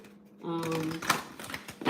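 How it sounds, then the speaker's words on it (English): Tarot cards are shuffled by hand in a close, quiet series of soft riffling clicks and taps, with a brief tonal hum near the start. "we're just going to shuffle all these cards"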